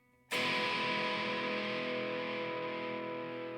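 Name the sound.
electric TE kit guitar strummed on bridge pickup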